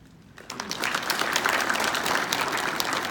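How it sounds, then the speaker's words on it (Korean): Audience applause at a Sejong University event introducing new professors, starting after a quiet moment and swelling into steady, dense clapping from a sizeable crowd that holds to the end. "한분 한 분 소개 드릴 때마다 우리 큰 박수로 환영을 해주시면 감사하겠습니다."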